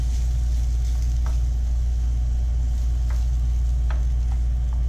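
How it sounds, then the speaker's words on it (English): Diced vegetables and fruit sizzling in olive oil as they are stirred in a pan, a steady soft fry hiss under a low hum, with a few brief scraping clicks from the stirring. "Then stir it up. Get all of those vegetables and fruit coated with the olive oil."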